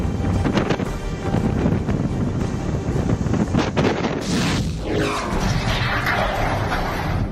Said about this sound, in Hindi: गुजरात के जामनगर में तेज हवाएं चल रही हैं